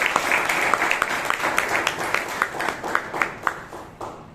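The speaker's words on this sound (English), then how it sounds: "Let's give Shreya a good round of applause." Applause at a Toastmasters club meeting, a small group clapping with distinct individual claps audible, fairly close and loud, thinning out toward the end.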